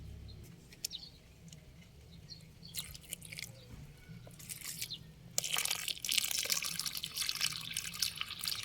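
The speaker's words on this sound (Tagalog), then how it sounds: "Dagdagan pa natin. Kasi kailangan may tubig doon sa pinakailalim," Water trickles and drips into a container planted with kangkong, faint at first, then swells to a louder continuous splashing pour near the end, with birds faintly audible outdoors.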